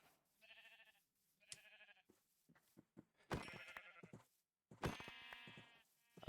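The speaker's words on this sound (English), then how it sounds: "Sheep." Sheep in the Minecraft video game bleat several times, each call distinct and separated by short pauses, quiet and close.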